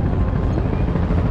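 Helicopter flying over New York, a steady loud rotor and engine drone filling the whole moment, continuous and close with no talk.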